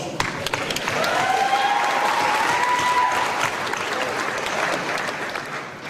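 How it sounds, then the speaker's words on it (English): A high school graduation audience on San Juan Island gives a warm round of applause, a full, sustained crowd clapping with a faint whistle or cheer rising partway through before it gradually thins. "Let's give him a warm round of applause."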